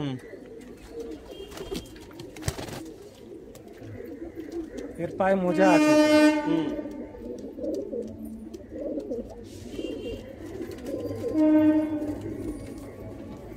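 Pigeons coo in a loft of high-flying Andhra pigeons, a low throaty burbling that rises clearly twice amid steady background cooing, with someone talking over it throughout.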